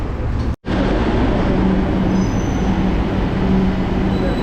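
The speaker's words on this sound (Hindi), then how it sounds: "एंड अब आएगी मेट्रो" A crowded Kolkata metro train rumbles loudly into a station with steady wheel noise and faint squealing, a brief gap in the roar near the start.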